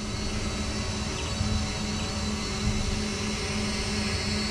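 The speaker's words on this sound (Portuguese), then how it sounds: "O drone aí tá pairando bonitinho." A drone hovering in place gives a steady, high whining buzz with a constant tone and no change in pitch, heard at moderate level with no voices.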